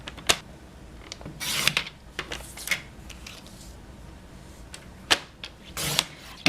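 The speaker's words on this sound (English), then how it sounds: "we're going to cut 2 pieces at 2 1/8" Cardstock pieces are cut for a handmade card with a paper trimmer, giving scattered clicks, sliding rasps and soft papery swishes at close range, with no talking.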